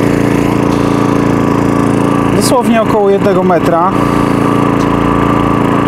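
Power generator running at close range on its exhaust side, a loud, steady droning engine hum throughout, with someone briefly talking over it partway through.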